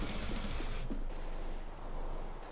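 Rapid gunfire in the tactical shooter CS:GO, a dense burst of shots packed tightly together over a loud, steady din of game sound.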